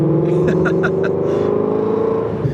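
Ford Mustang GT350 fitted with long tube headers revs with a loud, steady engine drone and a few sharp pulses, heard up close from inside the car.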